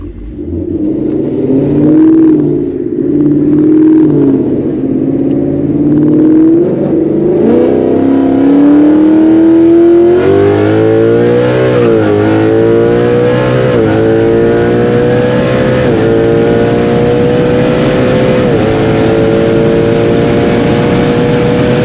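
A Ford S550 Mustang accelerates hard through the gears on a 60-130 run, its engine note climbing loudly with a deep rumble and rising whine, recorded from inside the car without talking.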